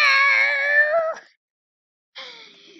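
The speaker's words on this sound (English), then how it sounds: "The cat call." A cartoon cat call from the online game Toontown Rewritten: a long, loud, strained meow that cuts off, then after a second of silence a shorter, weaker meow follows.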